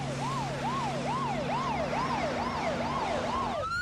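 Siren on Scottsbluff fire rescue units responding to a call, a steady wailing yelp that rises and falls about twice a second over a low engine hum, loud and close, with no talk.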